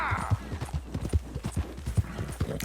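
Horse hooves galloping in Red Dead Redemption, a loud, close, rhythmic clip-clop beating steadily throughout at a brisk pace.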